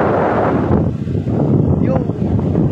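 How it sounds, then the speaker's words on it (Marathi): Strong wind sweeps across a beach, buffeting the microphone with a steady, loud, rumbling roar that swells and dips for the whole stretch. "बघा वारा बघा किती सुटलाय."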